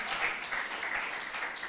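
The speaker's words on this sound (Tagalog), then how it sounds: "Wala tayong instrumento, kundi ang mga kamay lang natin pumapalakpak." A church congregation clapping their hands in worship with no instruments, a steady, rhythmic beat of many hands at moderate distance.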